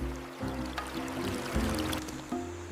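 A jungle stream in Vietnam, water gurgling and splashing up close with uneven sloshes and low bubbling, plus a few sharper knocks.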